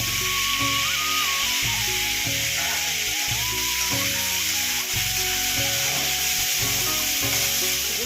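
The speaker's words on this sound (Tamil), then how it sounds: "நம்ம வேக வச்சுருக்க கொத்தரங்காயை போடுறோம்." Boiled cluster beans tossed into softened, frying onions and green chillies in a pan, giving a steady loud sizzle with scraping stir strokes, under a constant tonal background hum.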